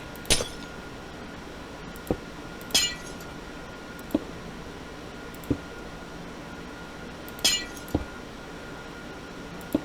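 Glass blocks being placed in Minecraft Java Edition to build a redstone tower, giving sharp glassy clinks with bright high tails, spaced irregularly about every one to two seconds and mixed with softer block-placing taps over a faint noisy background.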